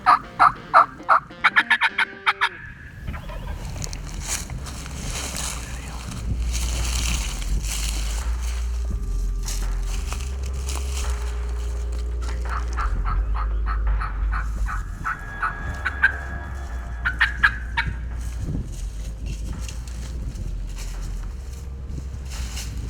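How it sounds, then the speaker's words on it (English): A wild turkey gobbles repeatedly in the Missouri woods during a spring hunt, sharp rattling bursts ringing out at a middle distance over steady low rumble, with a few quick bird calls at the very start. "Mike Joggerst heads back out into the Missouri turkey woods for a spot and stalk hunt"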